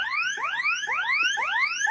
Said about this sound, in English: So at least this bot actually had an alarm ringing away, right?